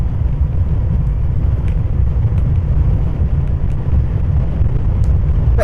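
Hero Karizma XMR motorcycle riding at speed through the gears, a steady loud low engine roar mixed with heavy wind buffeting on the microphone throughout, with no talking.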